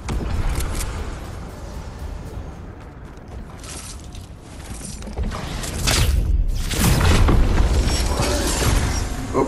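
Gunfire and explosive bangs in a squad battle video game, a dense, loud stream of shots and rumbling blasts that swells in the second half, with no talk.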